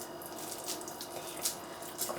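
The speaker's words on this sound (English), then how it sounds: "Because you heard the tap, didn't you?" Water runs from a kitchen tap in a steady, faint hiss, with a few brief splashy spurts as it hits the sink.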